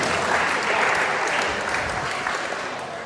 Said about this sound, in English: Let's give our sponsors one more round of applause